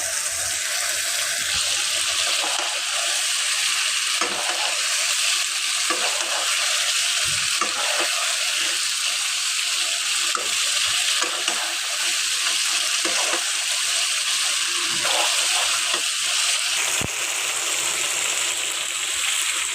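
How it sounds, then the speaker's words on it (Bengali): A spice paste with ground nuts fries in a pan and is stirred, a loud continuous sizzle close by, broken by occasional scrapes and knocks of the spoon, with no talking. "বাদাম বাটা, মশলা ভালো কষানো হয়ে গেছে।"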